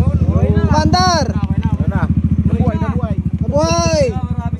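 A motorcycle engine idles steadily and loudly nearby at an endurance riding event, its throbbing pulse running throughout while several people talk over it.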